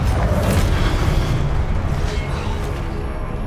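A Confringo blasting spell explodes in Hogwarts Legacy, a loud, continuous booming roar with heavy low rumble that fills the whole moment and slowly eases off, with no talking over it.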